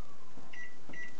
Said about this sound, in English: Pop that in the microwave.